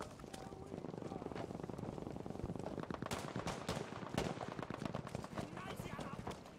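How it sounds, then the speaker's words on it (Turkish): K7 submachine gun in Battlefield V firing in rapid bursts of sharp cracks, mixed with other distant gunfire and battle noise, fairly quiet overall. "K7 bu kadar etkili nasıl sıkıyor?"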